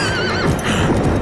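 A horse in a Diablo 4 in-game cinematic lets out a loud, wavering neigh, close and full, with hoof clip-clops and dense cinematic sound all around it.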